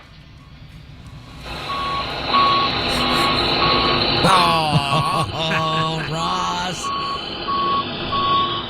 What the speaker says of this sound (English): That's what a dump truck sounds like.